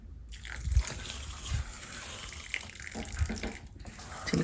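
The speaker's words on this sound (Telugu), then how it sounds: "మళ్ళీ కొంచెం నీళ్ళు లైట్గా ఇలా చిలకరిచ్చేయాలి." Water is lightly sprinkled over soaked, sprouting grains in a kitchen container, a soft intermittent splashing and trickling with a few small bumps, close and fairly quiet with no voices.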